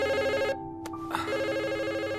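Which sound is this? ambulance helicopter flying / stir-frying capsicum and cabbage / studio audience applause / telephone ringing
telephone ringing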